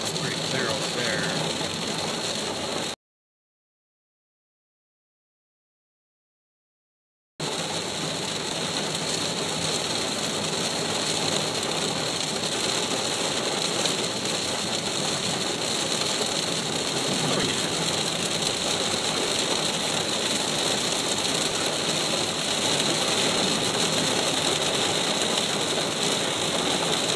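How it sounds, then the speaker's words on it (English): Heavy rain drums steadily on a car during a drive home, a dense, continuous wash of close hiss with a low engine rumble beneath, broken only by a few seconds of silence early on. "It was really, really rainy. The drive home was like this."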